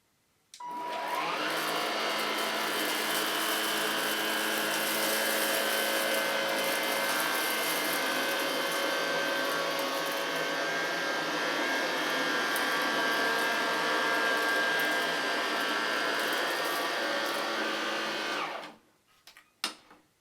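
A G Tech Air Ram cordless upright vacuum cleaner roars loudly and steadily with a high whine as it picks up dirt, running for about eighteen seconds before cutting off abruptly, followed by a single knock.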